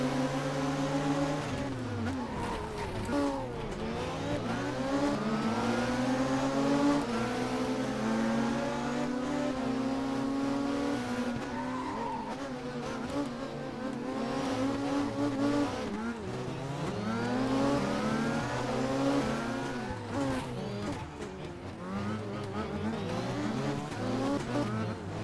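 BMW 320si race car in the Race 07 video game at Monaco, its engine revving hard and continuously with rising and falling pitch through gear changes, plus occasional tire squeal, loud and close throughout.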